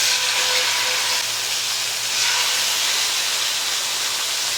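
A tandoori chicken leg sizzles in hot oil in a pan, a loud, dense, steady hiss that continues unbroken throughout with no speech.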